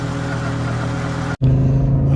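A 1988 Audi Ur Quattro with the MB engine pulls away under acceleration, heard from inside the car as a rising engine drone with a brief dropout midway before the note comes back stronger.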